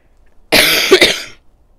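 A single harsh, loud cough bursts out close by and lasts under a second, with near silence on either side.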